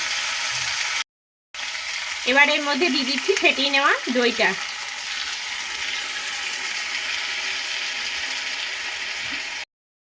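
Pointed gourd curry cooks over a low gas flame with a continuous soft sizzle, broken by a brief gap. A voice speaks briefly over it partway through.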